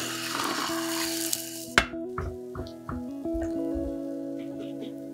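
A pumpkin Spanish omelette cooks in a pan with a soft steady sizzle, a sharp clack partway through and small taps after, while a tonal background hum continues.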